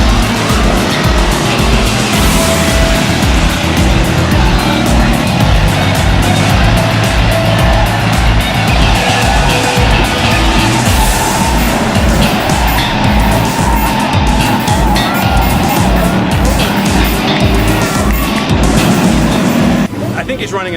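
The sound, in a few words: race car engine running on track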